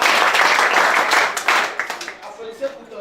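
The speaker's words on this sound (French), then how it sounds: "Applaudissez encore." Students in a lycée class applaud together, a dense burst of clapping that is loudest at the start and thins into scattered claps and a few voices as it dies away.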